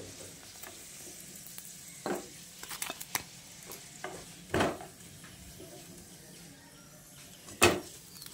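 Fried potato-and-egg snacks lifted from hot oil onto a plate: soft background sizzling with a few sharp clinks and scrapes of utensil on plate, the loudest near the middle and the end.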